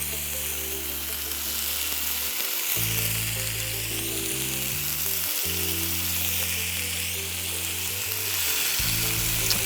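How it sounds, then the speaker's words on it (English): Chicken kebabs, peanut-infused, sizzle steadily in a pan four at a time, a constant close frying hiss with a low humming drone underneath. "Once you hear that nice little sizzle,"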